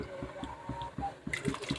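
Small handfuls of sago dropped bit by bit into a pot of boiling water, soft plops and splashes recurring over a gentle bubbling, close and quiet.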